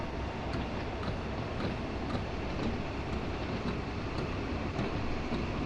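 Class 150/2 diesel train running from Penzance toward St. Austell in snow, a steady, even rumble and hum of the moving unit with faint rhythmic clicks, continuous and alone with no voices.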